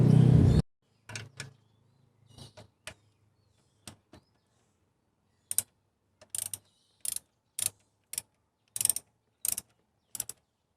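A ratchet clicks in short bursts while loosening the 12mm and 14mm alternator mounting bolts on a 2014 Kia Cerato, about a dozen quick close-up ratcheting runs separated by pauses, following a brief louder knock at the start.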